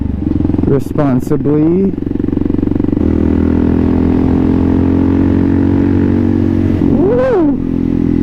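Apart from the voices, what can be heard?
Kawasaki KLR650 motorcycle riding at high RPM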